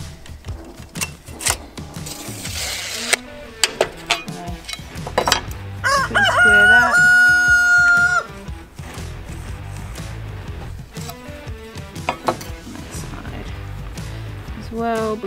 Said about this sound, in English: The rooster's nice.